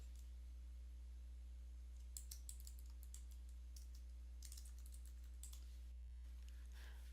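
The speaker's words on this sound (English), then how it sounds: "I typed a little something." Typing on a computer keyboard comes in quick, light clicking bursts with short pauses between them, faint and close over a steady low electrical hum.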